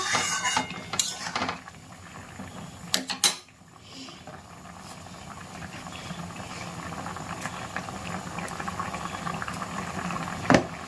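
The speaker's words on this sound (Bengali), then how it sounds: "ঝোল ফুটে উঠেছে।" Curry gravy boiling in a cooking pot gives a steady bubbling hiss, with a few clinks of metal utensils against the pot early on and near the end.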